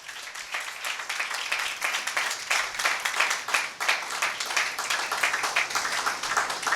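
A church congregation applauds during a Sunday Mother's Day sermon, sustained hearty clapping from a crowd, even and continuous.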